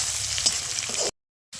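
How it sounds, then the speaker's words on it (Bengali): Onions frying in oil with panch phoron in a home kitchen pan, a steady close sizzle for about a second before the sound cuts to silence, then resumes briefly. "পেঁয়াজটাকে একটু ভেজে নেব"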